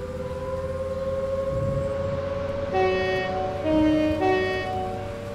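An Avanti West Coast express train in a train simulator game passes by outside, with a sustained loud tonal horn-like drone and rising layered whine pulses, no voices.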